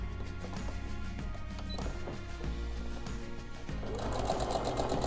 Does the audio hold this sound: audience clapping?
no